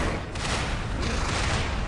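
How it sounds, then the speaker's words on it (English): Cannons fire in the action game Lies of P, producing a dense, continuous roar of blasts and rumble that stays loud throughout with no clear gaps; no voices. "get out of the way from those cannons"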